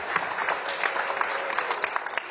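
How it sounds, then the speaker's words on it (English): An audience at a KnuckleMania II bare-knuckle fight press conference gives a round of applause, with dense, steady clapping that is moderately loud throughout. "Let's have a round of applause for our world-class panel."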